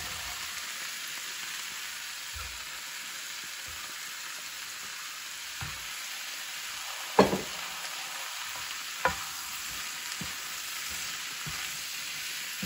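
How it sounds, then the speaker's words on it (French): Sliced courgettes frying in a pan give a continuous, even sizzle with a bright crackling hiss, broken by a few soft knocks and one or two louder taps against the pan. "Je rajoute mes courgettes. Je vais les laisser dorer."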